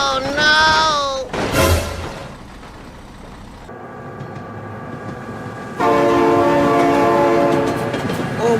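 In the BeamNG driving game, a train horn blares loudly at close range, then the heavy rumble and rattle of the passing train fills the gap before a second long, loud horn blast; a voice briefly shouts in alarm.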